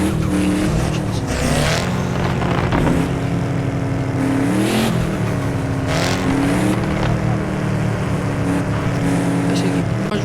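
A Mercedes C63 roars loudly under hard throttle, its engine rising and falling through repeated revving surges as gears change, heard from close range with a thick, continuous exhaust rumble.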